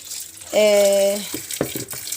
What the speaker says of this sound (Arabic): منكم سامعين صوت ميه